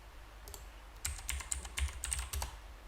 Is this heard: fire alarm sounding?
no